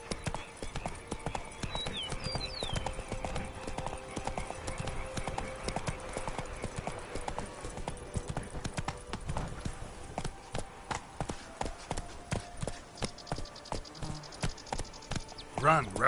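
A horse gallops in The Witcher video game with fast, steady clip-clop hoofbeats and occasional whinnies, heard under game music and a voice urging the horse on.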